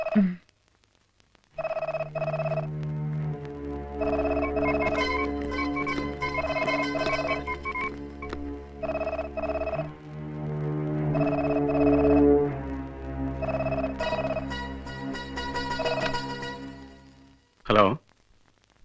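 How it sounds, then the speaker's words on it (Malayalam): A telephone bell rings repeatedly over a long stretch, its bursts blending with a steady tonal musical background, with voices mixed in toward the end. "ഫോൺ ബില്ലടിക്കുന്നു"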